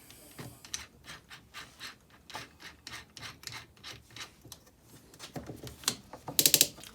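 A DeWalt drill bores a 7mm hole, giving a rhythmic series of grinding, ratcheting bursts at close range that grow louder and sharper near the end.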